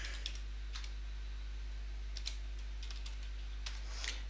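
Keys tap on a computer keyboard while setting up an administrator account on an SBS 2008 virtual machine, a few short bursts of quiet clicks over a constant low hum.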